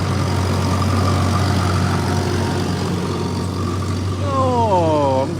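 A 13,000-pound pulling tractor's engine runs steadily throughout with a deep, continuous low rumble, and a rising whine joins near the end.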